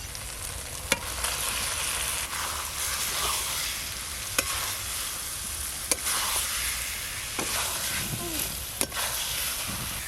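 Fried eggs dropped onto spiced masala that has been cooked down in a pan, giving a steady close sizzle with stirring scrapes and a few sharp utensil clicks throughout, no voices.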